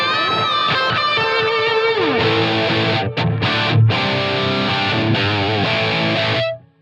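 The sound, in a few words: electric guitar through Line 6 Helix with delay and reverb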